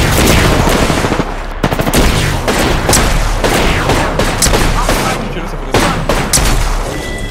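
Rapid automatic gunfire in the video game Apex Legends comes in loud, dense, overlapping bursts. The shots crack continuously for several seconds, close and dominant, with no talking over them.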